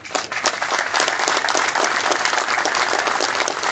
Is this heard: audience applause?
yes